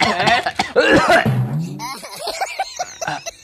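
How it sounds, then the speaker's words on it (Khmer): A person coughs in a comedy sketch, giving a burst of rough coughing that breaks up the talk around it, close and fairly loud. "សំទោសតាខ្ញុំក្អក"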